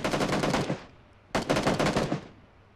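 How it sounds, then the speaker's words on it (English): Two loud, close bursts of rapid automatic gunfire from a PUBG match, separated by a brief gap. Each burst ends in a short decay. "Why are you shooting him still?"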